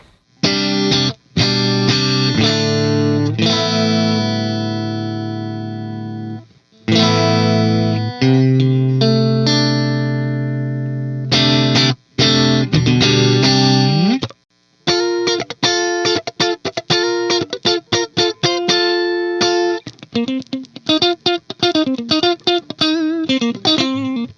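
Clean electric guitar with single-coil pickups through a Kasha Rockmod preamp with compression, giving an even tone, plays alone: ringing chords at first, then faster picked single notes and short phrases.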